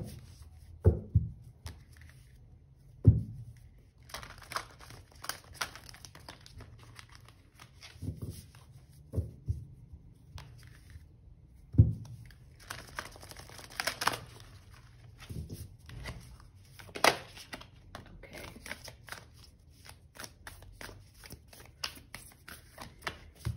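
Tarot cards shuffled by hand in quiet spurts of soft riffling and tapping with short pauses between, close and gentle, with no talk.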